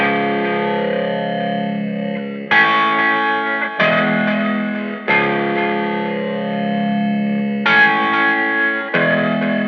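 An electric guitar played through effects recreates a song's intro tone: sustained, heavily processed chords with chorus and distortion, changing in blocks every second or two, loud and alone.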